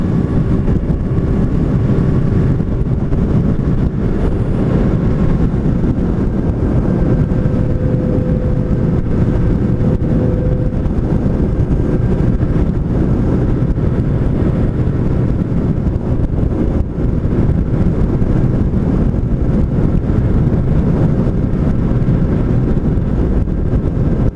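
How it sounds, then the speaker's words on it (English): A Yamaha FZ8N motorcycle with a 779 cc fuel-injected engine cruising on the road, a steady loud drone with heavy wind rush over the microphone, continuous and unbroken with no talking. "The engine's very smooth, 779 cc's I believe"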